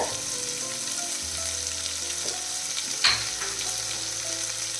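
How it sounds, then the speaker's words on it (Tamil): Chopped large onion sizzles steadily in hot oil in a pan, a continuous close frying hiss with a brief scrape of stirring midway and no voices. "வெங்காயம் நல்லா கோல்டன் ப்ரௌன் ஆகிற வரைக்கும் வதங்கணும்."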